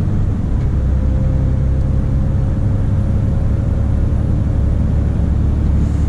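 A loaded Mercedes Actros 2541 truck with trailer drives on a country road in winter, a loud, steady, low cab rumble of engine and tyres with no speech.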